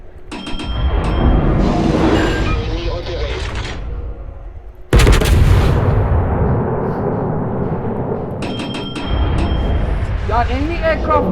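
Naval gunfire in World of Warships from a Tier X French large cruiser, Marseille: heavy booming volleys with a sharp loud blast midway, rumbling tails and clinking game effects, under a voice.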